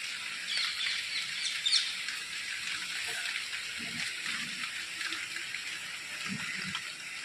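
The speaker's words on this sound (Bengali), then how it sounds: "দেখো বৃষ্টি শুরু হয়ে গেছে" Steady broadband patter of rain falling, continuous and even, with a few faint bird calls in the background.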